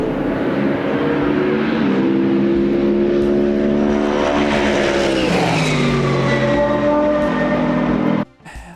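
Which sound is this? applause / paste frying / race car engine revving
race car engine revving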